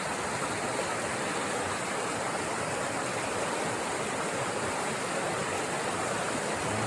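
Creek water rushes steadily along a trail in Jasper's backcountry, a constant broadband roar close by with no pauses or voices over it.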